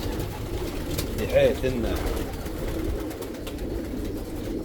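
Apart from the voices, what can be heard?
Hungarian and Dutch homing pigeons cooing in loft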